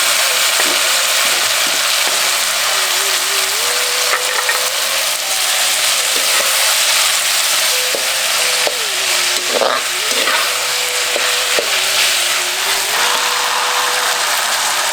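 Onions and 200 g of tomatoes sautéing in a pan for Tamil vatha kuzhambu, a steady loud sizzle and crackle throughout with occasional stirring scrapes and a faint tonal hum underneath.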